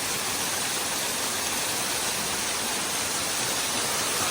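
Steady, loud rushing of a waterfall heard up close on a hike, a dense, unbroken roar of falling water with no voices.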